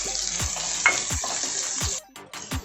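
Onion fries on a high flame in a pan with a loud continuous sizzle, punctuated by repeated sharp spatula knocks and scrapes against the metal, close and without speech.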